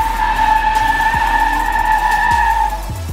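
Lifted 2021 Silverado pickup on 7-9 inch lift spinning its tires, a loud sustained tire squeal with engine roar lasting about three seconds, close by.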